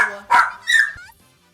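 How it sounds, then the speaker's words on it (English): A dog barks loudly and close by, two or three quick, sharp barks in a row that fade into quiet. "my dog's gonna keep barking extremely loudly if I don't give her a moment."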